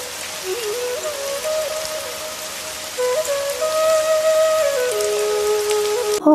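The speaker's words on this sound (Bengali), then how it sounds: "হঠাৎ করে এমন বৃষ্টি নেমে গেল" Steady rain patters on a surface throughout, with a thin whistling melody rising and falling above it.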